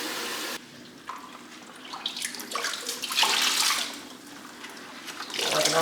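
Running water rinsing freshly dyed alpaca and merino yarn, a splashing, gurgling stream that shifts in intensity as the skeins are handled, with brief handling noises and no talk.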